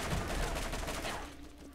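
Gunfire in the Borderlands video game, half a magazine emptied in a rapid burst: a dense fusillade of quick shots for about a second and a half, moderately quiet and fading slightly at the end, with no talk over it.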